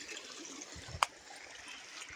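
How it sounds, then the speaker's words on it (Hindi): Floodwater drains downhill off waterlogged fields, a soft, continuous trickling wash at a moderate distance, broken once by a brief sharp click. "और इतना सारा पानी जा रहा है नीचे को।"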